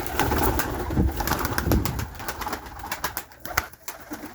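Several purebred pigeons coo softly nearby, with overlapping murmuring calls and occasional wing flutters or rustles in the background.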